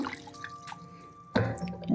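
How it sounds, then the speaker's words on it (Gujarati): Soft water sloshing and dripping, then a louder splash of water near the end as potato slices are rinsed. "ફરી પાછું પાણી નાખીને ધોઉં છું"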